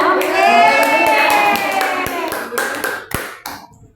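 Primary school children clapping a rhythmic spirit clap in a classroom, sharp patterned claps mixed with voices chanting and singing along, close and loud.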